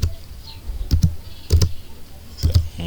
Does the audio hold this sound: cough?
no